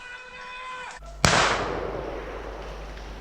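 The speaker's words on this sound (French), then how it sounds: "On entend très bien que quand le tracker tire la bécasse" A single sharp gunshot from a hunter firing at a woodcock during a driven hunt in woodland, loud and close, with a long rolling echo fading afterward. A faint tone and low rumble sit underneath.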